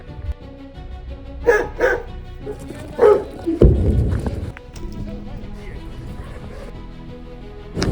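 A dog barks in short bursts amid a private residential street in a war-affected town, with people talking nearby and rustling movement close by.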